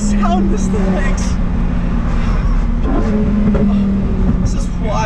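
A Lamborghini Huracan STO's V10 engine drones at a steady, loud pitch from inside the car on Italian backroads, with an excited voice heard over it.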